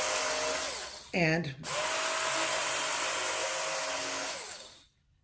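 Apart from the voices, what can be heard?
Worksharp belt knife sharpener grinding a blade edge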